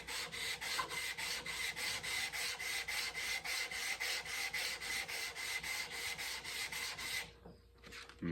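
A steel chisel is rubbed back and forth on wet/dry sandpaper with water to flatten its back: steady, close, rhythmic rasping strokes, roughly two per second, that carry on for about seven seconds and then stop.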